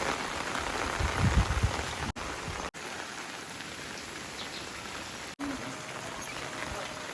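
Heavy rain from the day after Cyclone Dana falls steadily, a dense close hiss of drops on surfaces with a few brief cut-outs and a faint low voice early on.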